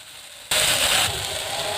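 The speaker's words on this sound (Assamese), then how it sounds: "মই পিঁয়াজৰ পেষ্ট দি দিলোঁ আৰু পিঁয়াজৰ পেষ্টটো দি পূৰা লগাব" Onion paste hits hot oil for a village-style broiler chicken curry. A sudden loud hiss bursts in partway through, peaks briefly, then settles into a steady, slightly softer sizzle.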